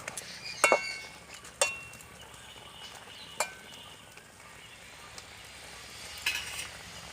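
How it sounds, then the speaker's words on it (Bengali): Papad curry with ghee is stirred in a pan in a village kitchen, with faint sizzling and a few sharp, sparse clinks of the spoon against the pan. "নেড়ে নেব একটু ভালো করে।"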